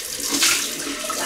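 Cold water pours steadily from a bathroom tap for a post-shave face rinse, a short, close, continuous splashing rush with no talking.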